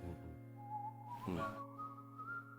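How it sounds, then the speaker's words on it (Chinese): Unsteady whistling closes a song in a stage performance, a single wavering whistled line that wobbles in pitch over a sustained musical backing. "大家可以听到我后面的那个口哨其实有点吹不稳"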